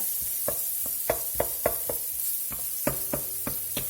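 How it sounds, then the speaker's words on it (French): A shallot sautés in butter in a pan, giving a constant bright sizzle with a series of close wooden knocks as it is stirred, roughly two or three per second. "Je fais donc revenir mon échalote dans mon beurre."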